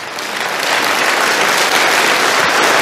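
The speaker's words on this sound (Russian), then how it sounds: "Тогда хлопайте себе хоть разу." A seminar audience breaks into dense, sustained applause, loud and steady throughout, with many hands clapping together and no speech over it.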